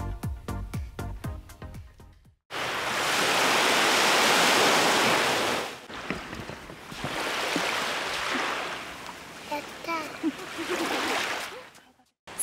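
Sea waves wash ashore at Toi beach in Izu during Golden Week, loud rushing surf swells and recedes in long bursts, with faint voices of visitors in the background.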